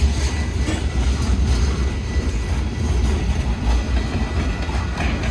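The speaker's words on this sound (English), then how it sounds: "Oh yeah, there's that metro." A metro train passing close by: a loud, continuous heavy rumble with rail clatter, steady throughout, with no voices heard.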